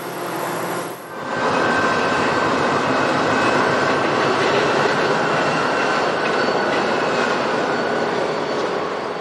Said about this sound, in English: This eastbound train has entered the Oakville sub and will continue east to Burlington